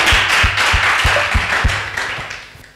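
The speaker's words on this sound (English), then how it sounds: "Clap for Jesus." A church congregation claps for Jesus during a teaching, a loud, close run of rhythmic claps on a steady beat that thins and fades toward the end.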